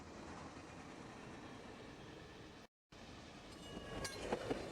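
Amtrak's westbound Capital Limited passenger train runs on Conrail's Chicago line through the Indiana dunes in 1996, a steady broad rumble of rolling cars heard from a distance, with a short dropout and a faint squeal near the end.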